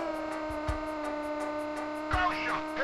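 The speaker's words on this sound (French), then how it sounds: "le moteur qui en peut plus" Strained, droning car engine in the PS1 rally game Rally de Europe, a steady held tone with a couple of brief bumps and a short swell of grinding noise near the end, loud and alone.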